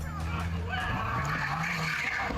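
Car tires skid and squeal on a street as a vehicle flees, a sustained screeching tone under engine noise lasting a couple of seconds, loud and close, with voices faintly mixed in.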